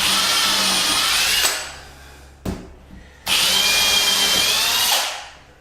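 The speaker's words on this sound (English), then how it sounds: "Pre-drill those holes, making sure you can go right through the door." Pilot holes for rim lock screws are drilled through a hardwood door with a power drill, in two loud close bursts of steady whine separated by a short pause with a brief knock.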